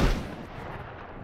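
Shotgun blast in a free-to-play open-world survival video game, a single loud burst with a sharp attack that leaves a long rumbling decay over about a second, alone with no talk.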